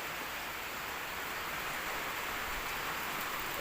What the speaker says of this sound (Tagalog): hintay tayong tumila ang ulan at tumaraw para magawa natin